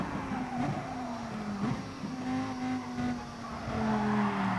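Tyres squeal and skid as a race car spins slightly after riding too far onto a curb in GT Sport, a sustained screech over the steady engine drone lasting several seconds.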